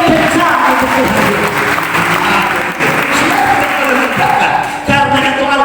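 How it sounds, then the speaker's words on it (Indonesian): A church congregation claps loudly during a sermon, dense sustained applause with a voice rising over it at times. "Beri tepuk tangan yang lebih kencang untuk Tuhan"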